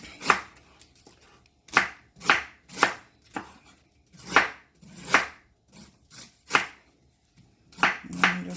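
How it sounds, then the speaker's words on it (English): Knife slicing cabbage into thin strips on a cutting board, a steady run of close crisp chops with short pauses between strokes. "keep slicing my cabbage."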